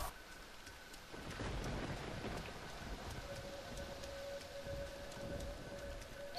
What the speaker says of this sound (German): Das Gewitter, ey, crazy shit.